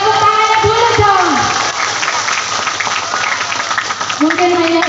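An audience claps at a large Islamic religious gathering, a steady wash of applause running the whole time with a tonal, sung-sounding voice drifting over it near the start and end.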